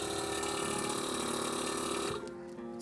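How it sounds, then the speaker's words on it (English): Air Lift suspension compressor on an Audi A4 B9 running after the ignition is off, giving a steady close mechanical whir with a rattling pulse that cuts off abruptly near the end. "The air compressor is still kicking in."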